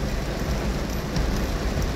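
Heavy rain pours down steadily in a dense, loud, continuous wash with no break, close by and without voices.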